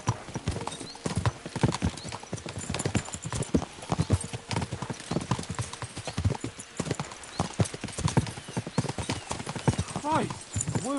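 Several horses' hooves clip-clop in a brisk, continuous rhythm on a medieval ride, loud and close, with a whinny near the end and voices talking over it.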